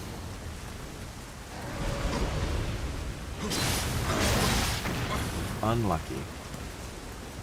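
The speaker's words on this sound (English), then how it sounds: "The rain is part of the aesthetic" Steady rain hiss in the samurai action game Nioh, a constant wash of falling water with brief louder bursts of in-game action midway, and a short spoken word near the end.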